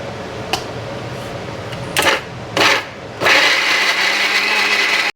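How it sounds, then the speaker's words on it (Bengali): An electric kitchen mixer grinder grinds cooled ingredients in its jar: two short whirring pulses, then a steady continuous grinding run that lasts to the end. "আমি এটা এবার মিক্সারে গ্রাইন্ড"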